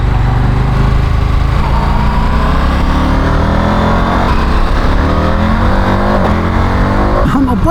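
A KTM motorcycle engine revs hard and loud close by, its pitch sweeping up and dropping as gears shift, with a distinct shift change near the end and no other sounds competing.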